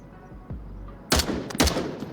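Gunfire in a VR shooter played on Quest 2 with a ProTubeVR MagTube, heard as two sharp, loud shots about half a second apart, each a bright crack with a short tail, with low ambient hum between them.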